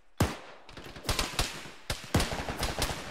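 Repeated gunfire in an Arma military game session, sharp close shots and short bursts echoing in an uneven rhythm, with distant cracks between the louder reports.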